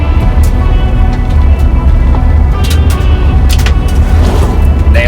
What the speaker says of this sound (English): Here comes the car.